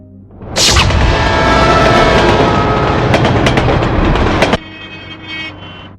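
A train roars past loudly for about four seconds with a dense rumble and rapid clattering wheels, then the noise cuts off abruptly to a quieter background.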